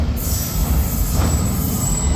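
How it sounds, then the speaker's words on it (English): A London Underground tube train pulls into a station platform, a steady loud low rumble of wheels and motors with a high whine, heard up close with no talk. "Any minute, according to the board up there, a train should be arriving, or a tube train should be arriving."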